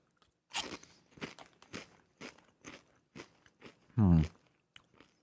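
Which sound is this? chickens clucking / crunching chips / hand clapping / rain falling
crunching chips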